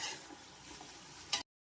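Tomatoes stirred in a cooking pot with a wooden stirrer, soft scraping and squelching under a faint sizzle, close and quiet, ending with one brief louder knock.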